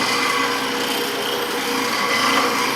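Power tool steadily grinding and shaping a hand tool held in a jig, a continuous loud abrasive whir with a gritty, rasping texture and no pauses.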